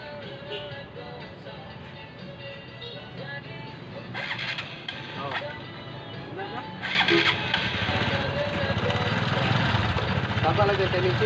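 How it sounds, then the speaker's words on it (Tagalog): A Honda XRM 125 Fi motorcycle engine, previously refusing to start, cranks and catches, then settles into a loud, steady running rumble, with people talking over it. "napaanda na natin yung motor"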